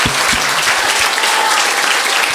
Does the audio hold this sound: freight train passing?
no